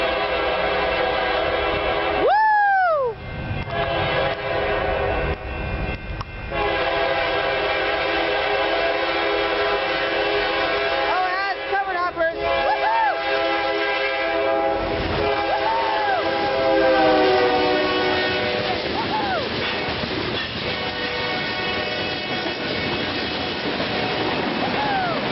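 Freight locomotive 1088 rolls past at night in Burlingame, its loud horn sounding in several long blasts over the steady rumble and clatter of rail cars, with a brief voice in the background.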